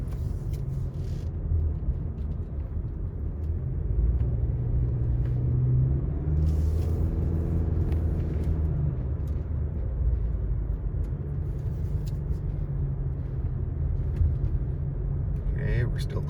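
A car climbing a double-wide mountain road through a chalet village, a steady loud engine and tire rumble from inside the cabin that swells slightly midway, with a voice talking over it.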